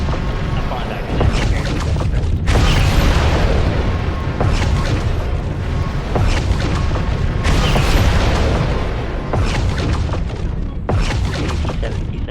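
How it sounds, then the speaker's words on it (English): Artillery strike in MechWarrior Online hammers a battlefield with a series of heavy, booming explosions, each loud blast rolling into a long rumble before the next lands, repeating several times over a constant roar. "Artillery strike."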